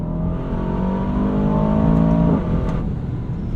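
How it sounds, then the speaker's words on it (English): An Aston Martin DBX 707 SUV's engine roars loudly and steadily with rushing induction air, the tone climbing before easing off near the end. "love the sound of the rushing in of the induction of the air"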